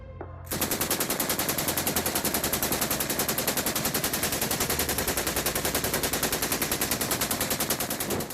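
Rapid sustained bursts of machine gun fire, a loud, evenly pulsing stream of shots that kicks in after a brief quiet start and runs unbroken to the end, with no voices.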